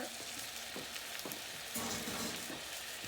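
Lamb meat goes into a pot of onion and spices for a Persian lamb stew, and a steady close sizzle of frying fills the whole stretch, rising slightly as the meat hits the hot pan.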